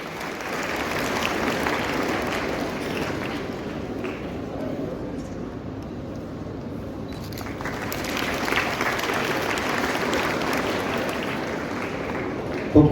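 At a school annual day, an audience greets the guest with sustained applause, a dense, even rush of many hands clapping from start to finish, swelling briefly near the end.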